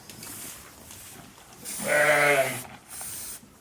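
A sheep on a small 35-acre Welsh farm during lambing gives one loud, clear bleat at close range over faint background noise.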